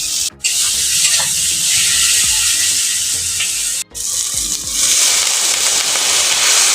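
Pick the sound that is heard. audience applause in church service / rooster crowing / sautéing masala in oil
sautéing masala in oil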